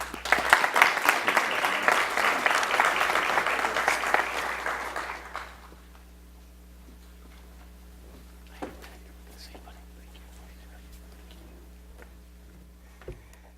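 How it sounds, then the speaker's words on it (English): An audience at an urban leadership seminar gives a speaker a burst of applause, with dense, lively clapping for about five seconds that cuts off abruptly, leaving a quiet room with a few faint knocks. "And let's give him a clap."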